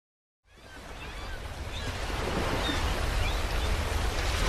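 A broad wash of surf fades in and swells steadily, with faint high calls that might be seagulls drifting over the roar.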